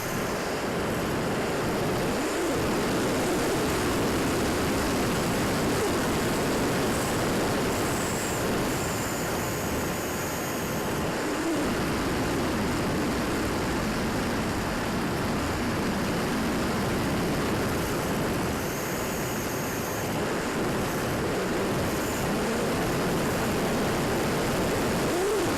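An FPV Ranger model airplane flies with a steady, continuous propeller and motor drone, constant in level over a broad wind-like hiss, with no voices.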